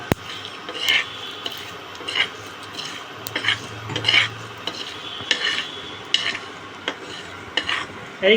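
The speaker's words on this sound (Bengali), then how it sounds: "খুব সুন্দর উঠছে এই ভাজাটা" Potatoes fry in a pan for aloo dum as a utensil stirs and scrapes in repeated strokes, with a low sizzle underneath and sharp metallic clinks; no one speaks.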